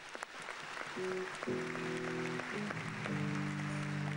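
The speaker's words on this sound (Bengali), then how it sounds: "আগে সেটার জন্য একটু হাততালি" A television comedy show studio audience applauds steadily, with a sustained musical tone from the band or keyboard playing underneath the clapping.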